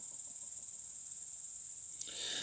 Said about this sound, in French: C'est surtout les grillons que vous allez entendre.